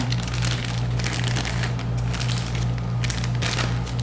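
A piping bag of icing is folded down by hand, giving close, crisp plastic crinkling and crackling in irregular bursts that keep going steadily for a few seconds, with no speech over it.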